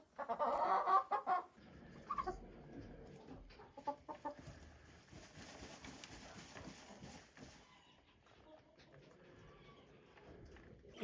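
Chickens on a small farm clucking close by, a burst of louder squawking cackles at the start, then softer scattered clucks and scratching under quiet background noise.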